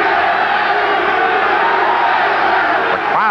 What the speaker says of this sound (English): The crowd really getting into the action here in Concord, California